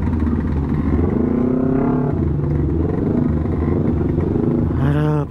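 Motorcycle engines in heavy, congested Makassar traffic, several bikes revving and rising in pitch close by amid a constant engine rumble, with a sharp rev swell near the end.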